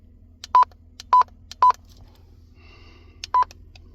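A Cobra Mini CB radio gives short electronic beeps as its channel buttons are pressed, three evenly spaced, then a pause and a fourth, close and clear over faint background noise.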